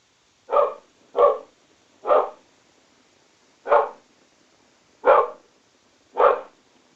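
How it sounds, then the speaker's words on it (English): Dogs bark six times in separate, evenly spaced single barks, each loud and close against near-silence, with no talking in between. "Those darn dogs, they love to yell."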